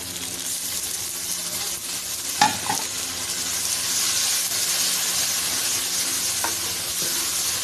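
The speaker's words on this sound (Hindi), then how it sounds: "अब हम इसमें टमाटर शामिल करेंगे।" Tomatoes going into frying masala for a minced meat and bitter gourd dish, a loud steady sizzle with a sharp clatter as they drop in, then continuous hissing.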